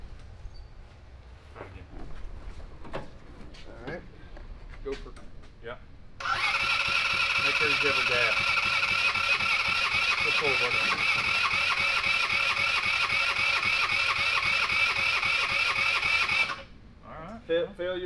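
A 150cc go kart engine cranks with a starter for about ten seconds without catching, a loud steady whirring grind that stops abruptly, with people talking before and after.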